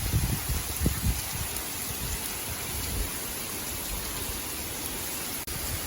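Steady heavy rain from a storm pours onto open water near Boca Grande, Florida, a dense continuous hiss close by, with a few low thumps early on.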